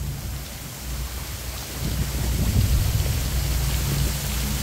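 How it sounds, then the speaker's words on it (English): Heavy rain drums steadily outside a Sunpower 44 solar electric yacht arriving off the Gold Coast in a thunderstorm, a dense roar with low rumbling underneath that swells louder midway and holds. "What an amazing storm."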